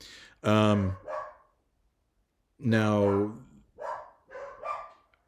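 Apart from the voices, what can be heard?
dogs barking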